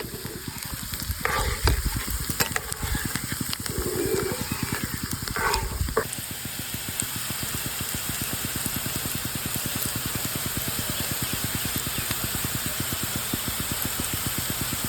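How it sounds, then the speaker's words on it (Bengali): Onion fritters frying in hot oil give a dense, continuous sizzle and bubbling, loud and close, with a few brief clinks from stirring early on. "দেখবেন এটা ভাজতে ভাজতে একদমই কমে যাবে।"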